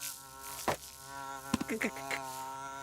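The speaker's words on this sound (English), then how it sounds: "Dragon was trying to read, but the fly was being very noisy." A cartoon fly buzzes noisily, its thin droning whine rising and falling over a few seconds, with short bursts of sharper buzzing near the middle, fairly close and alone.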